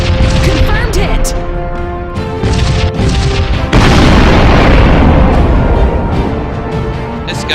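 Kinetic burst weapon fire slamming into a target in the space strategy game Sunrider, a loud sustained boom and crash that swells midway and holds over a busy mix of game music and effects.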